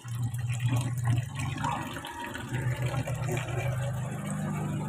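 A tap runs with a weak flow while laundry is being done, giving a soft continuous gush of water over a low steady hum, with no one talking.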